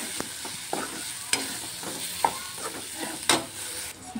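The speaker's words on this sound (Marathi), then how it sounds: "हे सर्व आता मसाल्याने मिक्स करते आणि छान असं परतवून घ्यायचं आहे।" Vegetables stir-fried with kala masala in a pan, a soft sizzle running throughout under repeated spatula scrapes and a few sharp clacks against the pan, close and moderately loud.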